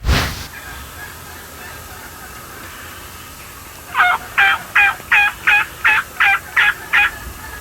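Merriam's wild turkeys gobbling during a Nebraska hunt, a loud burst at the start followed after a pause by a rapid run of about nine close, evenly spaced gobbles.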